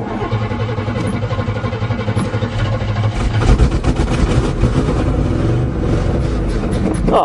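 A 1977 GMC truck with a 400 engine is cranked and started after sitting seven years, giving a loud, rough, rumbling run that grows heavier and more uneven partway through.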